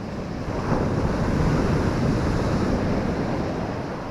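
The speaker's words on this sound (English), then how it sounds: "you can hear them stones and boulders, they're falling back and making great big lumps and knocks." Steady wash of sea surf on the Holderness coast near Hilston, with stones and boulders rolling and knocking as the water draws back, a continuous rumbling roar with some wind noise.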